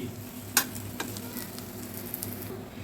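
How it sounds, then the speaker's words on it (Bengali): An egg fries in a pan for an egg curry, giving a soft, steady sizzle up close, opened by one sharp utensil tap and dotted with faint clicks; no speech. "তো এই ডিম ভাজাটা প্রায় হয়ে এসছে,"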